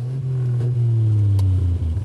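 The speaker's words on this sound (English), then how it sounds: "if you don't like things peaceful, all you have to do is raise this lever and a couple of flaps open" Bentley 3.5-litre straight-six sports car roars with its exhaust flaps open, a loud, close, deep engine drone rising in pitch as it pulls.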